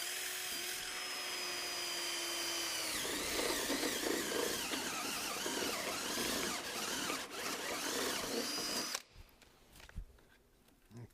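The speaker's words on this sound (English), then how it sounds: "I pop these holes with a vary bit, 3/4 inch vary bit, and I just drill these holes" A 3/4 inch vari bit drilling holes for a modern pergola kit's perimeter box beams: a loud, steady power-drill whine that shifts pitch as it bites, grinds roughly for several seconds, then stops abruptly, leaving faint handling noises.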